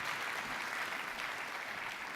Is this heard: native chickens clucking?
no